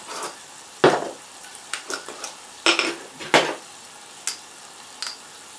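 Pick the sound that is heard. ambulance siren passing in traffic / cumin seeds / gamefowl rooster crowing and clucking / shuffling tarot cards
cumin seeds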